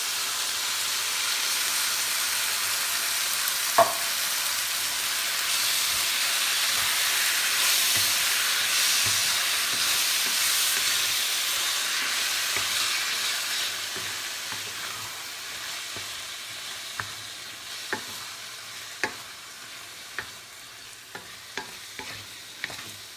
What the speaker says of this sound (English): Gonna add in my diced tomatoes and my can of beans.